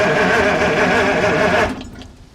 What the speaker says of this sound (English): I'm just going to check whether these valves here are opening and shutting while we're cranking.